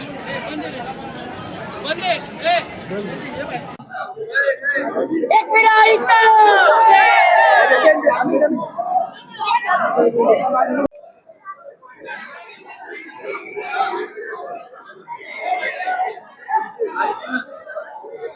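A large Sunday crowd of devotees at the Ekvira temple on Karla hill, a loud mix of many overlapping voices and chatter that drops briefly around eleven seconds and then carries on as a steady murmur throughout.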